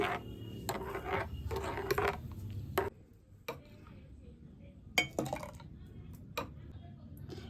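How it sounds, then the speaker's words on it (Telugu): A spoon stirs cooked sago into melon juice, giving scattered metallic clinks and taps against the bowl, some louder and some light, with some talk at the start. "మనం ఉడికించుకున్న సగ్గుబియ్యం కూడా వేసుకోవాలి వేసుకుని కలుపుకోవాలి ఇలా కలుపుకోవాలి ఇలాగ అన్నీ మిక్స్ చేసుకోవాలి"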